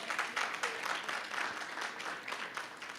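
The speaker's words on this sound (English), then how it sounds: "Give them a round of applause," An audience at an NAACP candidate forum claps for the election candidates, a dense, even wash of applause that holds steady throughout.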